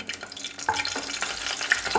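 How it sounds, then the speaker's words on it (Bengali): Dried red chillies fry in oil in a kadai, giving a steady close sizzle with occasional stirring scrapes and small crackles. "লঙ্কাটা ভাজা হোক"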